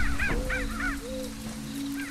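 Crows in the video game Albert and Otto caw in a quick run of harsh calls, then one more caw after a pause, close and clear over a steady low game drone.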